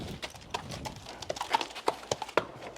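Hooves of a newly arrived horse clip-clop in an uneven sequence of sharp knocks, fairly close and moderately quiet, with no talking over them.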